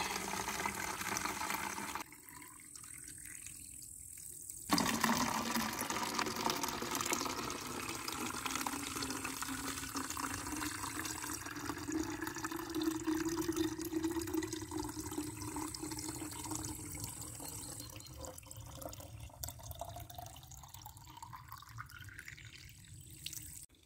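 Drinking water running from a tap into a container at a public water point, a continuous close hiss and gurgle whose pitch rises steadily as the vessel fills, with a brief pause in the flow near the start.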